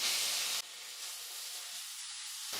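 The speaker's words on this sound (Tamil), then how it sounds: "இப்போ இந்த கேரட்டை சேர்த்துட்டு நல்லா வதக்கிக்கலாம்." Grated carrot sautéing in ghee in a pan makes a steady close hiss, loudest in a brief burst at the start and then settling into a softer, even sizzle.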